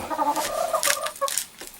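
Chickens cluck close by in an unheated coop on a cold winter day after a polar vortex, with a few short, bright clucks and calls in quick succession.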